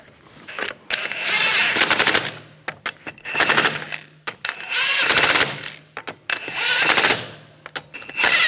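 A power impact tool tightens lug bolts on the front wheel of a 2010-2014 Volkswagen GTI. It fires in loud, close rattling bursts of about a second each, four in a row, with short pauses between them.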